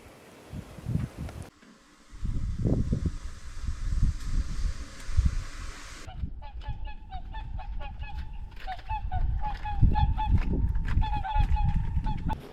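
Swans call on a lake near the ice during a first-ice fishing trip, sending a run of loud, honking, trumpeting calls over wind and rustling, with several birds overlapping and repeating.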